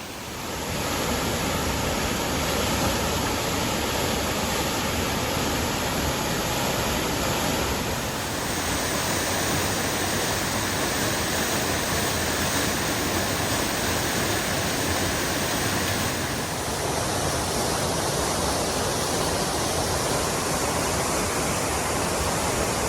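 High-flowing waterfall at Rough Butt Creek Falls in Jackson County, North Carolina, swollen after a storm, roaring as a steady, loud, broadband rush close by with no break.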